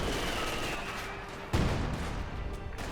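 Artillery and gunfire crackle through a World War-era strategy game battle, a dense steady rumble of distant shots broken by one heavy close boom midway, loud and unbroken throughout.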